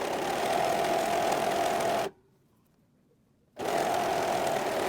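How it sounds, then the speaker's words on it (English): A serger sews stretch fabric with a steady, close mechanical whir. It stops for about a second and a half, then runs again at the same even pace. "When you're sewing with a stretch fabric in the serger"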